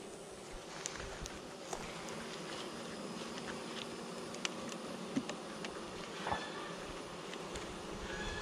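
Honeybees at a beehive hum steadily in a dense, continuous drone, with a few faint clicks and brief louder buzzes passing close by.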